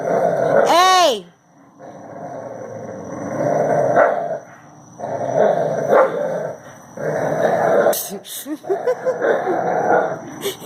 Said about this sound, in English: they just playing tug of war, but don't they sound like they're killing each other?